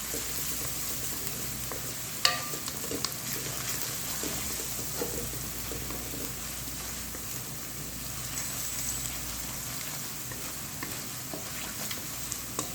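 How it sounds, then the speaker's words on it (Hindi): Ginger garlic paste frying in a pan makes a continuous, even sizzle, broken by occasional light stirring scrapes and one sharp clink. "अदरक लहसुन के पेस्ट को थोड़ा सा हम इसको पकाएंगे ताकि अच्छी सी इसकी खुशबू आ जाए।"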